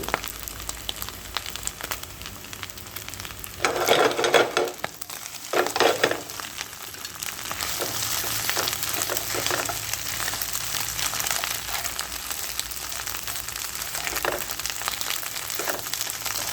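Batter frying in hot oil, a loud, close, continuous sizzle with bursts of bubbling and stirring scrapes, running steadily from start to finish.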